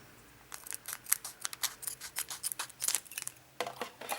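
Scissors snip through a tough Japanese Pokémon booster pack from a Pikachu Cosplay Pokémon Center box, a rapid run of crisp close-up cuts and crinkles with no talking.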